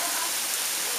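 Hail and rain pelting down in a severe thunderstorm, a dense, even hiss of hard precipitation for a brief moment, loud and close with no voices.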